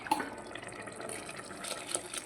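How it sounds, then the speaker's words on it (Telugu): Water flows into a pressure cooker pot for chicken pulao, with coriander and mint in it, as a steady close pouring trickle with small splashes and drips, no voices. "వాటర్ ఉంది కదా, వాటర్ పోసేసుకుందాం."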